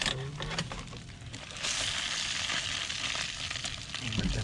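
A London broil steak sizzles steadily in a hot pan in an RV kitchen, a loud continuous frying hiss that swells after being flipped, with a brief clatter near the end.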